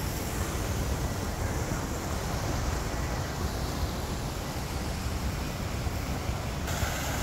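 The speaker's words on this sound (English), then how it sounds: "that waterfall right there, it really, the noise of it really is absolutely cool" Steady broadband rush of a waterfall beside a hotel in Fort Lauderdale, loud and continuous with no breaks, a constant wash of falling water filling the whole clip.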